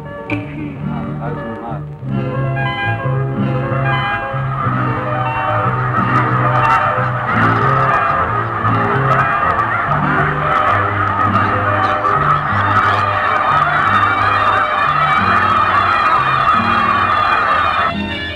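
A dense flock of geese honking nonstop, loud and overlapping, their calls layered into a continuous clamor over a low rumble.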